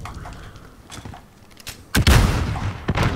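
A grenade blast in a first-person shooter gunfight game: a sudden heavy boom with a broad rumbling roar that lingers, preceded by scattered lighter gunfire cracks.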